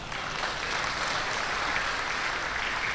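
Dense, steady audience applause, a continuous wash of many hands clapping at even loudness throughout, with no voices standing out.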